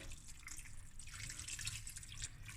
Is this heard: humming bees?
no